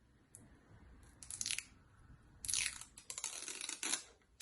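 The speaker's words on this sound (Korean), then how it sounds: "보호 비닐을 이렇게 벗겨내고" Protective plastic film peels off wig tape in crackly, tearing bursts, a short strip first and then a longer, louder crinkling pull, close up with no talking.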